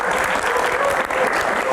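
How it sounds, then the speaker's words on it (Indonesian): Audience at an Indonesian Q&A talk show gives a brief burst of steady, fairly loud clapping, continuous and dense throughout with no pauses. "Tepuk tangan dong buat Pak Budi dong"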